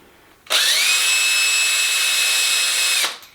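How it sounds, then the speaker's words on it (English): A power drill starts abruptly and whines loudly at a steady high pitch for about two and a half seconds while boring into a block, then spins down. "I put the drill through, go to about halfway on the block"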